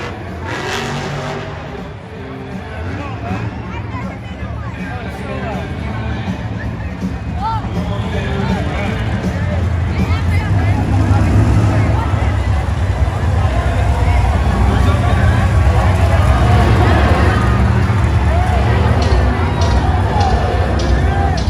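Diesel Dave's new Bro Camino monster truck rolls onto the arena track at Monster Jam in Anaheim, its engine a steady heavy rumble that swells and stays loud over a noisy stadium crowd.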